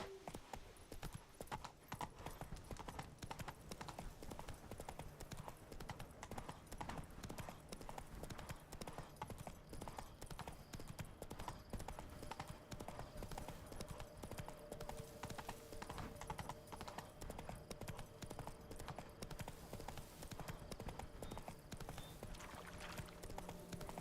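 Horse hooves clip-clop steadily and continuously while riding in The Witcher video game, with a faint whinny and game ambience underneath throughout.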